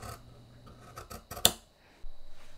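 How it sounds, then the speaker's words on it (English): Scissors snip through fabric for beret pieces, several quick close cuts with a sharp metallic snap near the middle, followed by rustling of cloth. "I cut 8 pieces of the same shape"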